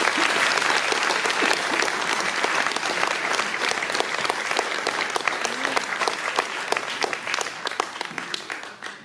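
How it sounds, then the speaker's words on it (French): An audience applauding dancers at an evening show, dense continuous clapping from a large crowd that stays loud and fades slightly toward the end. "Encore applaudissez-les."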